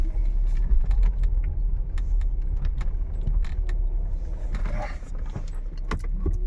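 A Mercedes W124 E420 engine rumbles low and steady as the car reverses slowly, with light rattles and clinks on top and no talking.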